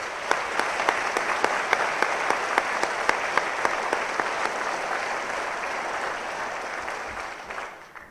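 Audience applause honors police academy instructors and staff at a graduation ceremony, a dense, steady clapping that stays loud for most of its length before tapering near the end.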